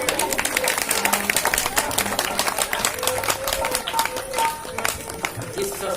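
A crowd applauding to welcome a guest at a Guru Purnima satsang gathering, steady dense clapping throughout with a voice speaking over it.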